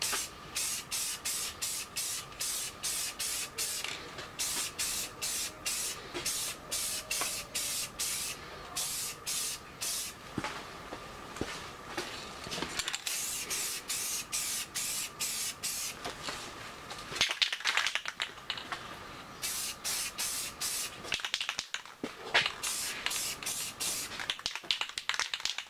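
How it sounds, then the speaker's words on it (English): Spray gun laying the first coat of paint on a John Deere 2940 tractor, a steady series of short hissing bursts repeated in rhythm, close by and moderately loud. "we'll lay the first coat of paint down, we'll see how it tacks."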